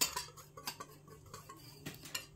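Sugar and starch are stirred together cold in a pot, giving quiet, irregular clinks and scrapes of a utensil against the pot, with soft ticking taps and no talking.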